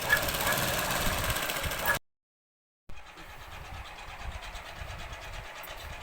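A sewing machine runs steadily while stitching old saree fabric, a continuous mechanical whir that stops abruptly for about a second of silence, then resumes at a somewhat lower level.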